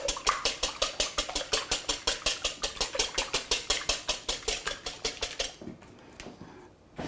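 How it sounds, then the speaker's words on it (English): Two eggs are whisked in a bowl, making a rapid, steady run of close, bright clinks that keeps an even rhythm for about five seconds and then stops. "So first I've got 2 eggs that I'm going to whisk up here."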